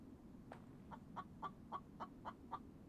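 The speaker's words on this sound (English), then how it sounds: "I assume you guys can hear the chicken in the game" A chicken clucks in a video game, seven short rhythmic clucks spaced about a quarter second apart, moderately faint over a low background hum.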